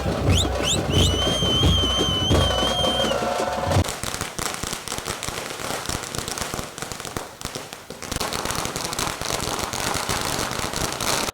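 Firecrackers burst nonstop as fans in Chikkaballapur celebrate the release of Yash's film with tamate drums. Dense, loud crackling and popping fills the scene, with a sharp whistling rocket near the start.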